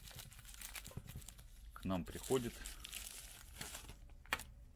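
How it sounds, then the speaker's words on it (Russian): A sealed plastic packet holding an NFC smart tag from China is crinkled and torn open in a few close, crackling bursts midway, while someone talks over it. "вот в таком запечатанном пакетике"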